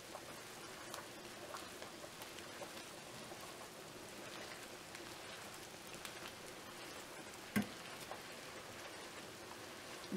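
Shrimp sizzle in a hot pan while being cooked for shrimp scampi, a soft, steady crackling hiss that runs throughout, with one brief sharp clink midway as they are turned.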